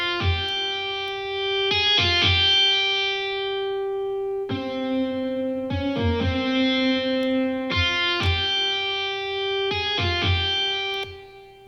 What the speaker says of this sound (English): Maybe try some of the different distortion effects first.